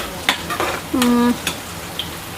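Onions fry in a pan for onion biryani with a steady sizzle. A few sharp clinks of utensil stirring punctuate it, along with a brief tonal squeak.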